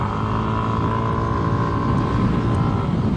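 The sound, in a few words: scooter engine on race circuit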